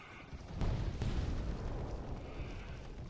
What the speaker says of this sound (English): when you kill the bigger bear bugs, they explode